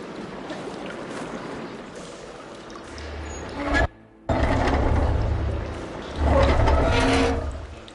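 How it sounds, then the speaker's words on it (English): Water pours and trickles into a room in Horizon Forbidden West, a steady broadband rush that briefly cuts out and then swells louder again. "Aloy, I can hear water in the room again"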